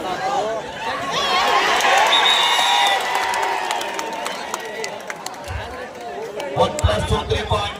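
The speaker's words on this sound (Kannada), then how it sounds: "ಒಂದು ಸಲ ಚಪ್ಪಾಳೆ ಕೂಡ ಪ್ರೇಕ್ಷಕರ ಜೋರ ಚಪ್ಪಾಳೆ" Spectators at the BSF vs Mumbai kabaddi final in Paramanandawadi clap and cheer in a dense, sustained crowd roar, with bursts of applause swelling near the end beneath ongoing voices.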